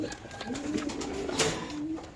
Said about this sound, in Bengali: মাক্সি রেসার কবুতর মাশাআল্লাহ, সুন্দর বড় সাইজের।